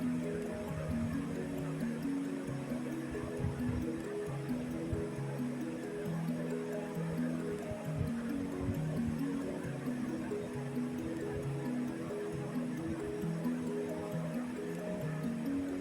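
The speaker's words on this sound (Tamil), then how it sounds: "சிக்கன் போட்ட உடனே நல்லா மிக்ஸ் பண்ணிக்கோங்க." Chicken pieces are stirred together with handfuls of mint, coriander and green chillies for a dum biryani, making a steady wet squishing and slapping that runs throughout under continuous background music.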